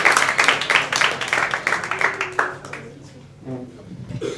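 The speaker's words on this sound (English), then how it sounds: "Let's start clapping it up, clap it up, clap it up, clap it up for Justin Woodward" A live comedy club audience at Laughing Skull applauds comedian Justin Woodward, with steady rhythmic clapping that is loud at first and fades after about three seconds, heard under a host talking.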